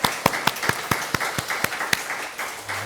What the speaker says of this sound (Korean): 우리 하나님께 한번 박수로 영광을 올리겠습니다